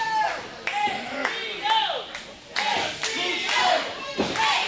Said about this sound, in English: Crowd chanting for HBO, who gets thrown to the outside